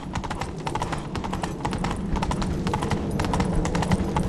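Roach the horse gallops in The Witcher 3, hooves pounding in a fast, continuous clip-clop rhythm, close and fairly loud over a rumbling background.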